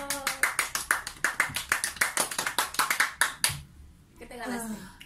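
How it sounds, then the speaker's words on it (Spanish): After a spicy ramen eating challenge, hands clap quickly and close by for about three and a half seconds in a brisk, uneven patter. The clapping stops and a voice follows. "¡Eh! ¡Aplauso!"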